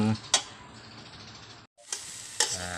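Dried chilies stir-roasted in a hot pan for chili paste, giving a soft steady sizzle with a few sharp scraping clicks from stirring and a short pause partway through.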